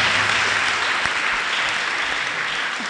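Steady, dense applause from a church congregation, with many hands clapping together at an even level and tapering only slightly at the end, with no talk.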